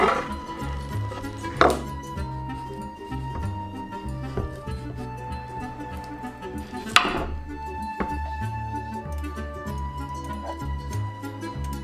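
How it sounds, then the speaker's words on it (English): A knife cuts through an avocado on a board in a kitchen, with two sharp chopping knocks standing out over a steady background hum and faint clinks. "I think I'll go cut the avocado first."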